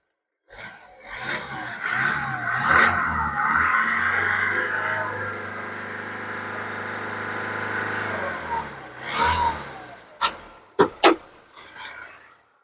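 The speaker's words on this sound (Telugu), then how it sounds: "ఇంజిన్ అయితే రేస్ చేసి చూపిస్తాను మీకు" A 2013 Honda Amaze diesel car engine revs up steadily for several seconds, holding a raised drone before settling, followed by a few sharp clicks or thumps near the end, close and fairly loud with no talk.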